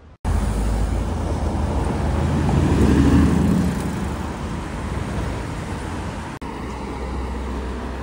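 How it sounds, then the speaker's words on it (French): An Aston Martin V8 Vantage drives past on a street in Luxembourg, a loud, steady broadband roar that swells slightly midway and stays close, with a wind-like rushing quality throughout. "Magnifique V8 Vantage"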